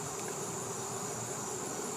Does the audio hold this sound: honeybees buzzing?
yes